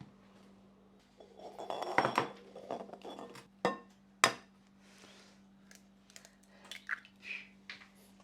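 Eggs cracked one after another against a bowl while making quiche in a Paris kitchen: a few sharp, close knocks and clinks with quiet gaps between them.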